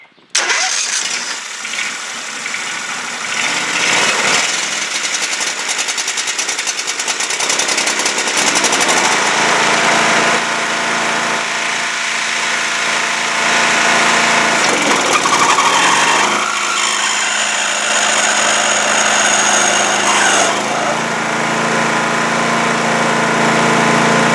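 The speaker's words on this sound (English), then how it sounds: "I'm going to rev the engine up and see if that makes any difference." Lawn tractor mower engine on an SST16 being revved up, a loud, steady, close engine roar that holds for about twenty-four seconds with pitch shifts as the throttle rises and falls.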